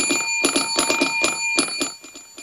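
An alarm clock rings in rapid repeated bursts of bright metallic bell tones, loud and close, continuing steadily without any talking.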